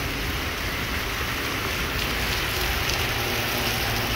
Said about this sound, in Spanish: Y así la lluvia esta tarde de jueves.